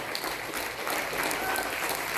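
Audience applause at a folk festival, steady dense clapping from a hall crowd filling the whole short stretch, moderately loud and even.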